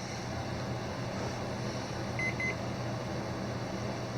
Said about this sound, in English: Let's have a fun time listening to it just beep all over the place.